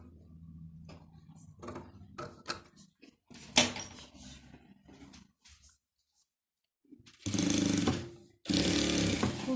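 A sewing machine stitches strips of quilt fabric in short, intermittent bursts of mechanical whirring separated by pauses, ending with two longer, louder runs close by.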